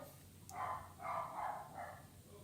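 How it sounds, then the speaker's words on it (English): A dog barks three times in quick yips, somewhat distant, over faint background noise. "He's just barking up a storm."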